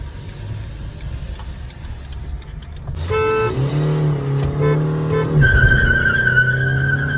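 A horn toots, then a diesel Brezza with manual gearbox and a diesel Alcazar with automatic gearbox launch in a drag race, loud revving engines rising in pitch with tire noise, close by and without speech.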